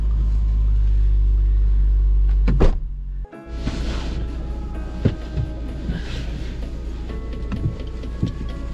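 A car engine idles with a deep steady rumble, then cuts off abruptly; a thunk follows and the engine restarts, running on under scattered clicks and knocks.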